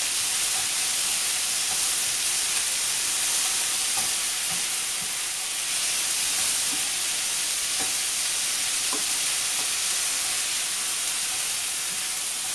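Food fries in a pan over high heat with a loud, constant sizzle and hiss, marked by occasional faint stirring taps and no voices.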